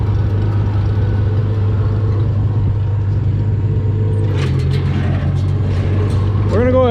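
An Allis Chalmers 442 tractor engine idles steadily with a baler hitched, a low constant rumble that holds throughout, with some faint knocking in the second half and a rising whine at the very end.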